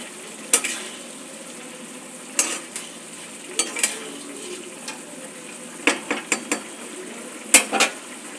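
Curry cooks in a pan with a soft bubbling simmer, broken by scattered clinks of a spoon stirring against the metal, a few sharp knocks standing out over the quiet background.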